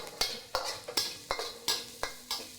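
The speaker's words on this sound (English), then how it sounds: "Now I add garlic. Stir it a little bit." Garlic and onion stirred in a pan for Indonesian fried rice, giving about eight evenly spaced scraping strokes of a spatula against metal over a faint sizzle, close and quiet.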